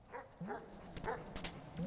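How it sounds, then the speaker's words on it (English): Dogs in the Animal Well video game let out a few short yips and whimpering barks, spaced unevenly over a faint ambient background, with no one talking. "those stupid dogs"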